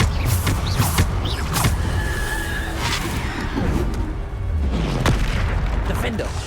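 Bombarda spell blasts in the video game Hogwarts Legacy, with repeated booms and crashing impacts across the stretch amid creaking, whooshing combat effects, some sharp bursts standing out near the start and end.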